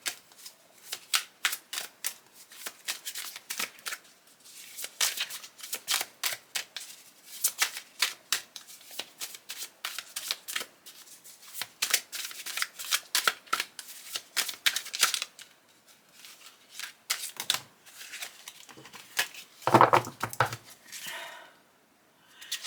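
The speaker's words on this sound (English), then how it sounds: "Shuffle them good." Playing cards are shuffled repeatedly up close, bursts of fluttering riffles and rapid snaps in a rhythmic series, with brief pauses between shuffles.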